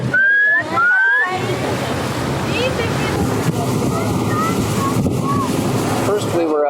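Iguazu waterfall roaring as a steady, dense rush of falling water, heard close and loud with some wind buffeting; brief voices at the very start.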